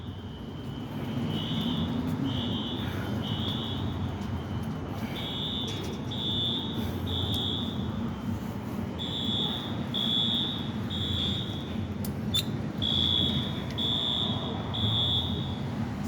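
A fire alarm sounds at Roxbury Crossing subway station, going on for over an hour. It gives steady groups of three high beeps that repeat over a constant rumble of station and traffic noise.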